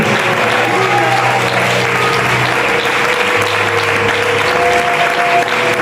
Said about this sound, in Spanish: Ese aplauso es para Dios.